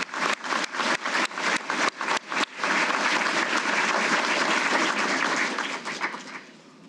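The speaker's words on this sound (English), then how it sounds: "How about a round of applause for them?" An audience at a military change-of-responsibility ceremony breaks into applause, starting with a few distinct claps that quickly merge into steady, sustained clapping before it fades out at the end.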